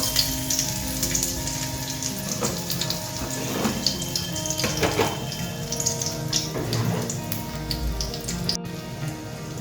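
Dry red chili, bay leaf and ginger frying in a pan for moong dal, a steady close sizzle and crackle with faint scraping, no voices.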